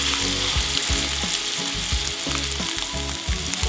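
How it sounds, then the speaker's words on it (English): Prime NY strip steak searing in a smoking-hot skillet, a loud, dense, continuous sizzle close up with rhythmic crackling pulses and no voices. "You can see this thing is starting to smoke, so I'm gonna go ahead and put the steak on"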